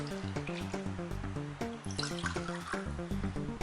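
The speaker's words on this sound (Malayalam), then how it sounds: "ഞാനിത് പച്ചവെള്ളമാണ് ഒഴിക്കുന്നത്" Plain tap water poured from a cup into rice flour, a close, bubbly trickle with gurgling drips that rises and falls in short pulses.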